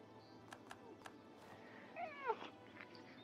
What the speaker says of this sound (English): Hi, kitty. You're okay.